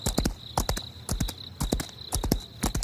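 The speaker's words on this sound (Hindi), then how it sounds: "लेकिन घोड़ा भागता ही रहा।" Galloping horse hooves in a cartoon ghost story, a brisk, regular clip-clop of sharp hoof strikes in quick repeating groups, close and clear with nothing else behind them.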